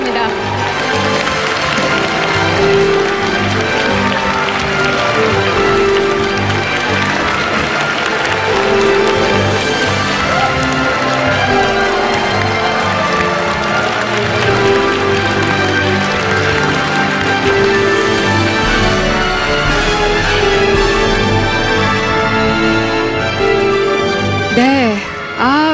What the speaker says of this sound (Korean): 네, 더욱 뜨거운 박수로 환영해 주시기 바랍니다.